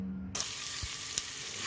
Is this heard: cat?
no